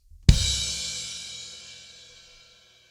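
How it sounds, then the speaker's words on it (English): A kick drum and crash cymbal struck together in one loud hit, the cymbal's bright wash fading out over about two seconds. "do a kick and a crash at the same time"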